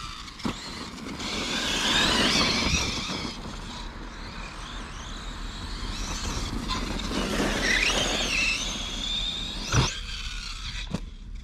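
A Team Associated Nomad DB8 RC buggy runs outdoors in a small garden, its electric motor whining and rising as it accelerates, with tire scrabbling and brief squeals under a steady broadband roar.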